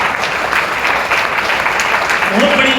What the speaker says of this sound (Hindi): ताली थोड़ी दोनों हाथ ऊपर करके जोरदार बजाइए गुरु के लिए सर।